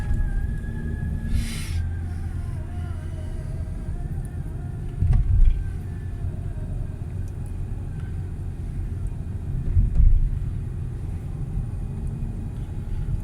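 A car on a driving-test route in Karapürçek hums with a steady low engine rumble inside the cabin, rising in two brief surges as the throttle is pressed, with no talk.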